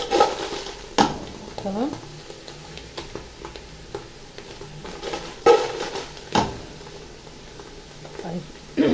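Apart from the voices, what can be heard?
stirring and flipping food frying in a pan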